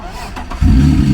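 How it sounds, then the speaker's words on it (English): A BMW E46 with a freshly swapped manual transmission cranks and fires up, its deep, steady engine rumble starting abruptly partway through and continuing loud and close after faint background voices. "You about to start it."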